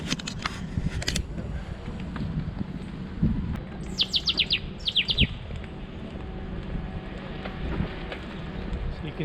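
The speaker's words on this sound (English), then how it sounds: "Hey, look at the birds." Birds chirp on a street in Lima, Peru, quick bursts of high tweets in two clusters over steady traffic and city hum.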